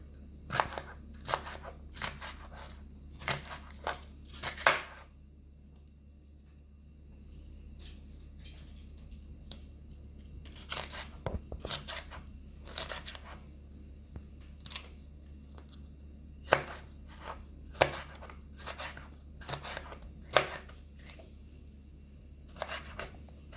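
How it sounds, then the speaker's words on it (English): Knife slicing cabbage and vegetables for steamed Jamaican cabbage, crisp crunching cuts in quick bursts with pauses, close and fairly quiet over a low hum. "Just slicing up our vegetable."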